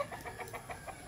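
A chicken clucks in a steady rhythm, about five short clucks in a second, close by over a faint background hiss.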